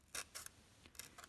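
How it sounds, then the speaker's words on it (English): A hobby knife traces along the edges of foam stones for miniature terrain, giving a few short, faint scratchy cuts in an uneven rhythm, close up and quiet. "or at least just trace along the edges with the hobby knife."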